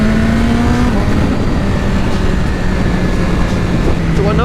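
A 2023 BMW S1000RR motorcycle engine revs hard, a loud continuous high-pitched wail rising and dropping through gears over heavy wind rush, close and sustained.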